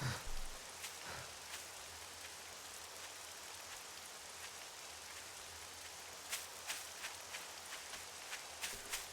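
Rain falls steadily in the video game 7 Days to Die, a faint, even hiss with scattered louder drop taps and a few soft thuds, with no voices.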